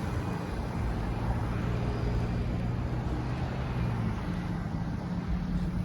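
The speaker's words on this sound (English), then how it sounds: "There's this car going over train tracks." A car rumbles past nearby as it crosses train tracks, its low engine and tire noise steady and loud throughout, with faint traffic hum behind it.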